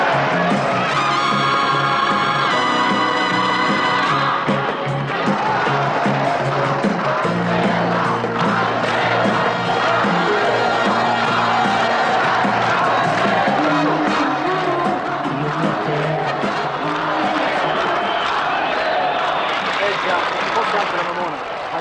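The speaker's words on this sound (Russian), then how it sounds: "Я не в силах перекричать толпу." A large crowd in a hall cheers and roars loudly and continuously, with music swelling underneath and a voice briefly heard at the start.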